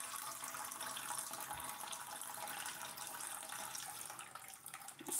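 Tap water runs steadily into a deeper bowl in a home kitchen while baking a fruit cake, a continuous bright hiss and splash that holds level throughout before a small thump at the very end, with no talking.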